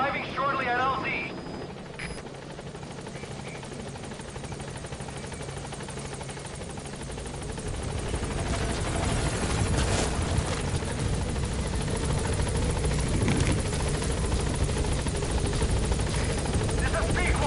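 The Pequod helicopter from the video game Metal Gear Solid 5 approaches a landing zone, its rotor drone swelling from a distant hum into a loud, close, continuous thrumming, with a radio voice speaking early on.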